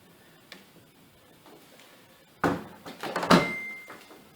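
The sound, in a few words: shutting door of Samsung condenser tumble dryer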